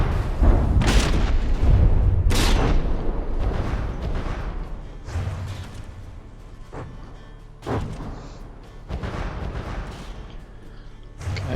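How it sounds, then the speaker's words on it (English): Artillery shells landing in a naval battle game: repeated deep booming impacts and rumbling blasts, several heavy hits spread through the stretch over a continuous low roar. "Some shells are landing."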